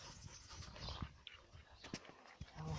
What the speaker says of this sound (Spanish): Yo creo que tenía sed este perro.